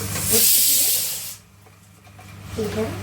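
A pressure cooker cooking dal on the stove releases a loud hiss of steam for over a second, goes quiet, then begins hissing again as a voice speaks.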